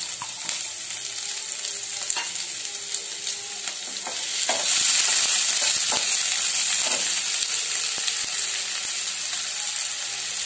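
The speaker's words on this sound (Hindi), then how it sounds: "जब तक हमारा प्याज ब्राउन ना हो, हम इसको भूनेंगे अच्छी तरह" Finely chopped onion fries with cumin in a pan, a close crackling sizzle that swells louder partway through, with repeated spatula scrapes and clinks as it is stirred.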